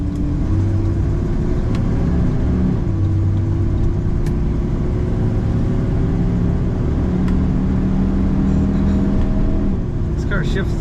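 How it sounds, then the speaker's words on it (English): A 1969 Chevrolet Chevelle SS tribute on a cold Minnesota morning drive, heard from inside as a loud, steady engine rumble with shifting pitch as it moves through gears, with faint clicks and some voice over it. "We're going to take it for a drive."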